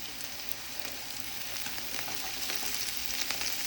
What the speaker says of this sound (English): Adding my garlic in now. I'll saute that.